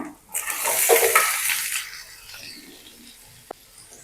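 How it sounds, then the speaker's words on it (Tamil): Water is poured into a cooking pan of fried onions, green chilies and chow chow for a chana dal kootu, a rushing splash of about a second and a half that fades, followed by a small clink. "தண்ணி ஊற்றிக்கிறேன்"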